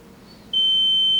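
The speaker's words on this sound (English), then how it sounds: "You can hear the beeper." A single high-pitched electronic beep from a leak tester signaling a passed test starts abruptly and holds steadily, loud and close, over a faint low background hum.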